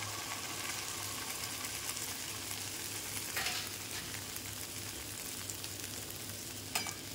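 Egg frying in hot oil with fried onions in a pan while making dimer bhujia, a quiet, steady sizzle with a low hum behind it and a couple of faint scraping stirs.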